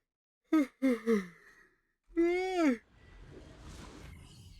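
A woman yawns, a stretched, rising-and-falling vocal yawn following a few short breathy sounds, heard close and alone before faint background noise.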